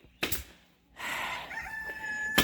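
Light Brahma chickens in a pen, with a loud close cluck or squawk, a pause, then sustained rooster crowing with sharp bright calls at the end.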